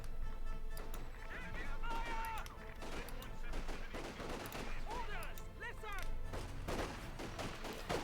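Rapid gunfire crackles through a Company of Heroes 2 World War II battle, medics firing pistols amid wider rifle and machine-gun bursts, a dense, continuous volley of overlapping shots at mid distance under a steady din.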